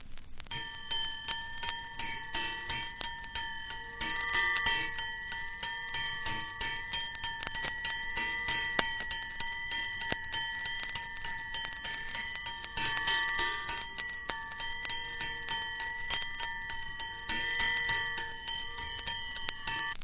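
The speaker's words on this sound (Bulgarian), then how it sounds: "Подава се с чести удари по звучащи предмети, камбани, клепала," Rapid, repeated metallic strikes on bells, clappers or rails sounding a Bulgarian civil defence alarm signal from 1976, a bright ringing clangor that continues insistently for about twenty seconds with no voices.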